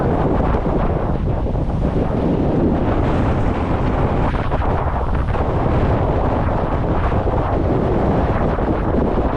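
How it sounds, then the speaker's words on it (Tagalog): Strong typhoon wind roars and buffets the microphone without letup, a loud, dense rumble filling the whole stretch. "Lakas ng hangin."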